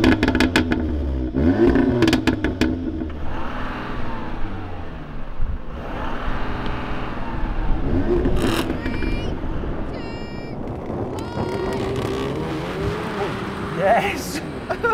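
Engines of an Audi S8 V8, an Audi S3 hot hatch and a diesel Audi A8 drag racing, a loud continuous roar rising through the gears with several pitch shifts, under excited voices talking over it.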